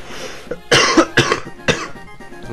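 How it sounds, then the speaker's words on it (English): Three or four harsh coughs in quick succession, close and loud, with a faint breath or throat noise before them. "I'm coughing a lot more than I have been."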